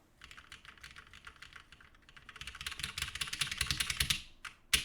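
Rapid, steady clacking from a custom Hiney TKL prototype mechanical keyboard, typed nearby with no speech, growing busier and louder toward the end before a final isolated keystroke.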